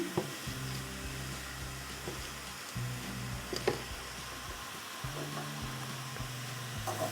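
Pumpkin vegetable curry being stirred in a pan gives off a soft, steady sizzle, while tonal music plays in separate phrases over it and a spoon scrapes now and then.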